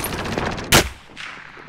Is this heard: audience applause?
no